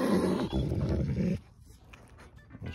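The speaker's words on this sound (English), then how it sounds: "We'll stop when he growls." A low, rumbling wolfdog growl sounds close up for about a second and a half, then gives way to quiet background noise with faint rustling.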